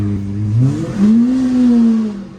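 A Liberty Walk Lamborghini Aventador engine revs loudly and close up, its pitch climbing in one short blip and then holding a high, steady roar before easing off.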